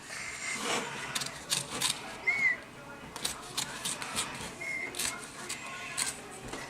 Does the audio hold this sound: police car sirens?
no